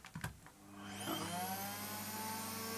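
An AEG Electrolux Powerforce vacuum cleaner switches on after a few clicks and spins up into a steady whining roar that holds close and loud, with a slightly unusual tonal hum in it.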